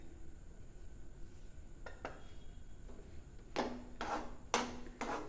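Cashews, raisins and ghee being stirred into pineapple kesari in a pan make a few sharp, close scrapes and clinks of a spoon against metal, growing busier toward the end, with no talking.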